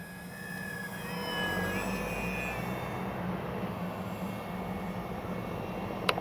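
An RC X-Fly Spitfire model airplane makes a slow flyby with flaps down, its engine a steady, moderately distant drone with a shifting high whine that rises and falls as it passes.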